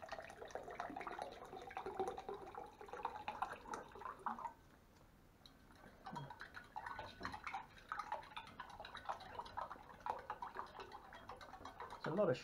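Cold water pours and trickles into dry berry drink powder from an MRE ration, a wet splashing and dripping running under talk for several seconds, then pausing briefly before more pouring.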